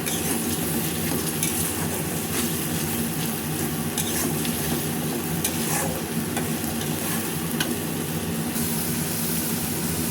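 Spices fry in a small amount of oil and are stirred steadily as a base for a malaikari curry. A dense, continuous sizzle and scraping carries on evenly throughout, close and loud, with no one speaking.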